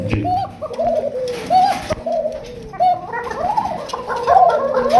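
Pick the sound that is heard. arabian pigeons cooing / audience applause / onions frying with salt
arabian pigeons cooing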